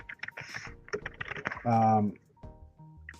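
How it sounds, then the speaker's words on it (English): Quick bursts of clicking from a computer keyboard come in short uneven runs, with someone talking over and between the taps at close range. "I'm just typing something in here"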